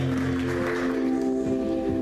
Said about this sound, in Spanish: Denle un aplauso al Señor. Denle un aplauso fuerte